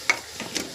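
A spoon stirs fish curry in a frying pan, giving a few quick, faint scrapes and soft sizzles with no voices.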